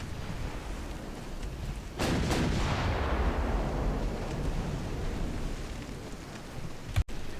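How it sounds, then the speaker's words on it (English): Big naval guns firing in the video game UA: Dreadnoughts, one heavy booming salvo partway through that rolls off into a long rumbling decay, with a sharp click near the end. "you notice the big guns are actually firing plunging fire, so it's coming up and then down onto the deck."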